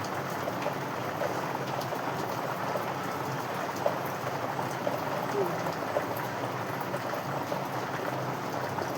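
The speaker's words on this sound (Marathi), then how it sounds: "छान असं मस्त आपण तव्यावरती फ्राय करून घेऊया" Gourds stuffed with onion, grated coconut and spice masala fry on a flat tawa, giving a steady, dense sizzling hiss that runs evenly throughout with a few faint crackles.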